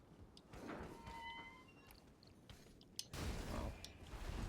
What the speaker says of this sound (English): So now we can open this door.